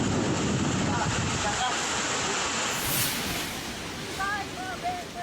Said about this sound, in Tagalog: Para bang may buhawi sa sobrang lakas ng hangin na sinabayan pa ng malakas na ulan.